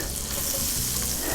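Butter melting in a frying pan set to 350 degrees gives a steady, close sizzle and fry that holds evenly for just over a second, with no voices.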